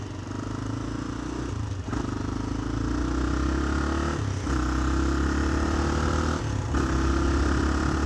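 A motorcycle rides along a wet, rainy road with a steady, close engine drone broken by three brief dips like gear changes. No one talks.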